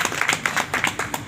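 A seminar audience claps in a short burst of distinct, fairly close handclaps, loosely rhythmic and loud, with no talking over them.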